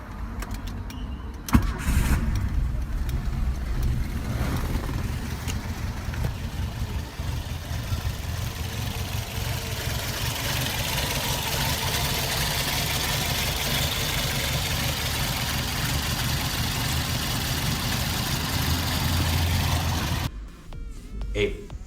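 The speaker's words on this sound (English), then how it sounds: "Volkswagen's PASSAT was the first Brazilian vehicle to offer a water-cooled engine." A 1974 Brazilian Volkswagen Passat with a water-cooled four-cylinder 1400 engine of 75 horsepower starts up and runs with a steady, loud close-up drone for about twenty seconds before cutting off, with talk over it.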